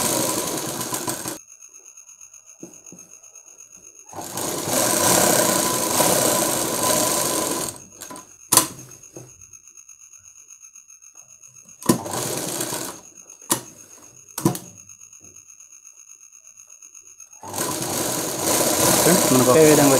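Tailor's sewing machine stitching darts on a blouse, running in bursts of rapid mechanical whirring separated by quiet pauses with scattered clicks and knocks, close and clear.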